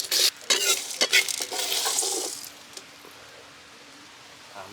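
Chicken frying in masala in a pan over medium heat, with loud sizzling and stirring scrapes for the first two and a half seconds, then a quieter steady sizzle.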